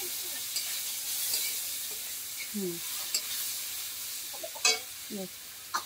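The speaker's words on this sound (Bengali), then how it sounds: "দিয়ে একটু সুন্দর করে আমগুলোকে একটু ভেজে নিতে হবে, হালকা করে যেন আমের গায়ে পেঁয়াজ লাগে।" Mango pieces with onion fry gently in a pan for sour dal, a soft steady sizzle under scattered spoon scrapes and small clinks, fairly quiet throughout.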